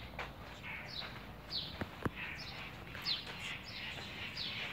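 Faint bird chirps repeat in short, high tweets around a fort in the Emirates, over quiet ambience with a few soft knocks and footsteps.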